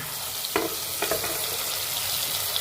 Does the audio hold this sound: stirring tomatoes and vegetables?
yes